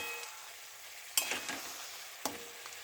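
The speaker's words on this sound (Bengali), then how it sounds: "মাটন রান্না করছি আমি।" Mutton cooking in a pan gives a soft, steady sizzle, broken by a few sharp clinks and scrapes of a utensil against the pan.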